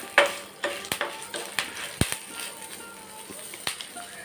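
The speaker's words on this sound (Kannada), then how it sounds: "ಇಂಗಿನ ಪುಡಿ ಹಾಕಿ ಫ್ರೈ ಮಾಡ್ಕೊಳ್ಳೋದು" Asafoetida powder frying in a pan for a brinjal rasavangi side dish: a low, steady sizzle beneath a series of sharp spatula taps and scrapes against the pan, spaced irregularly and close by.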